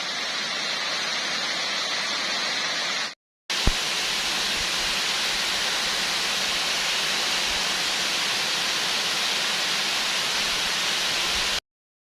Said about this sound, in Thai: ตอนนี้ผมก็ พาท่านผู้ชมนะครับ มา ชั้นล่างของน้ำตกตาดใหญ่ครับผมนะ